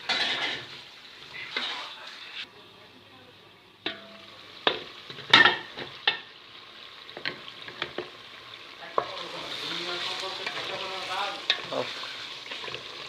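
Potato pieces for gobhi aloo sizzle steadily in a pan, with a spatula repeatedly scraping and clinking against the metal and the frying hiss growing louder toward the end.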